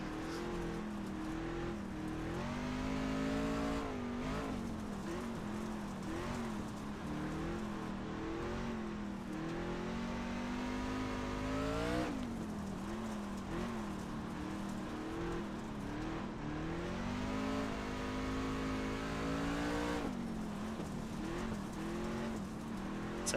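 Dirt race car engine in the iRacing sim revving hard throughout, with rising and falling pitch sweeps as it accelerates and lifts through the gears, loud and steady with no talking.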